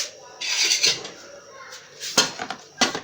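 A metal lid clatters onto a cooking pot for chicken pepper soup: several sharp, close clinks and scrapes come in short bursts with quiet gaps between them.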